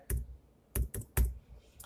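Someone types a postal code into a form field on a computer keyboard: three quick clusters of crisp key clicks separated by short pauses, with a fourth starting at the end, close and clear with no talking.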